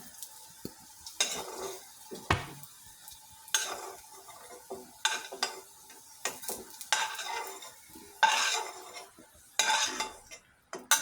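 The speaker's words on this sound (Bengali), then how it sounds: "ভাজা আলুটা আমি তুলে নিচ্ছি" Fried potatoes are lifted from a hot pan of oil on a kitchen stove, with repeated scraping and metal utensil clatter against the pan over a soft sizzle, in irregular bursts close by.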